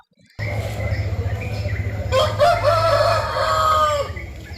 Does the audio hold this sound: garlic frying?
no